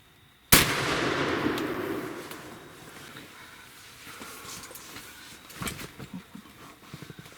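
A single sharp, loud rifle shot from a deer hunt rings out outdoors, followed by a long rolling echo that fades into wind and rustling.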